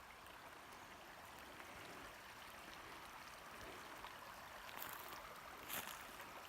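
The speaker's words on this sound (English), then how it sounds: "See that creek?" A creek flowing through a mountain forest among mountain laurel, heard as a faint, continuous watery rush that stays soft and even, with a couple of slightly brighter splashes near the end.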